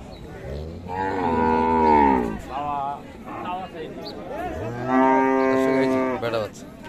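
A native cow at the Raniganj cattle market in Dinajpur gives two long, loud, close moos separated by a short pause, with market murmur behind.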